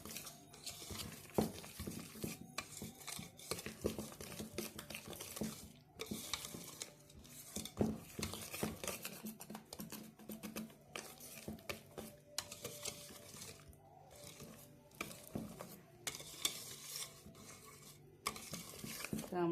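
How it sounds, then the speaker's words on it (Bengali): Palm-fruit taal bora batter with a little wheat flour is mixed until sticky, giving a long stretch of wet squelching, slapping and stirring with occasional clinks against the bowl, in uneven bursts. "এটাকে বেশ সুন্দর করে আঠা আঠা করে মেখে নিতে হবে।"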